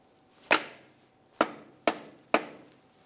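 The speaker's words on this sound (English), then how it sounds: "We'll give this a couple loving bonks to drive it all the way into the front differential." A rubber mallet drives an axle stub shaft into the front differential of a 2005–2010 Dodge Dakota, four dull, close thuds spaced irregularly, each with a short decay.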